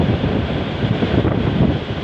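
A ship moving forward through the open sea, with a steady broadband rush of wind and water against the hull, constant and close, no voices.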